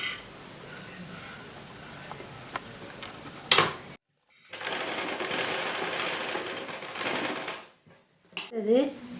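An electric sewing machine stitches a dart on a blouse, a fast mechanical whir in two bursts of a few seconds each, close up, between stretches of quiet handling and a brief voice.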